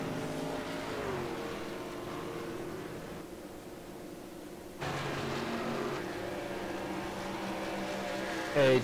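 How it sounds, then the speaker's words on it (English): Racing truck engines from the iRacing video game drone steadily at a distance, with a sudden jump in engine roar midway and a brief high whine near the end. "David, your iRacing sound is draining my mic out"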